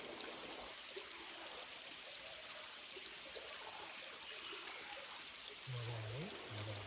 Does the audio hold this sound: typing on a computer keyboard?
no